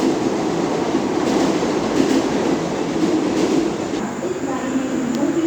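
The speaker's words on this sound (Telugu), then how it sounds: "లోకల్ ట్రైన్ వస్తుంది సిఎస్ఎంటీకి వెళ్ళేది" A Mumbai fast local train bound for CSMT pulls into Dadar station, a loud steady rumble of wheels and carriages with faint rail clatter, station crowd noise around it.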